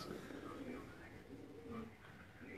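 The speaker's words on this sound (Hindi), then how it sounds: "ये मेरा लाडला कबूतर है" An eight-year-old pet pigeon gives low, soft coos close by, faint and repeated under a steady background hum.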